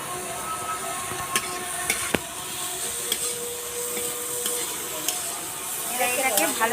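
Ground turmeric, cumin and coriander sizzle in a pan of oil, a continuous hissing fry broken by scattered stirring clicks and scrapes, growing a little busier toward the end.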